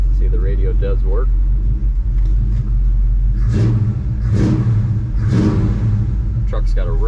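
A 1971 Chevrolet C10 pickup engine idles with a deep rumble, then rises in three quick throttle blips, close and loud, with someone talking briefly at the start and end.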